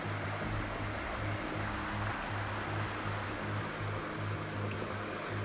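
A small side stream flows into the Soluble River along a trail in Serra das Araras, a soft, constant wash of running water heard faintly and evenly throughout, with a low steady hum beneath.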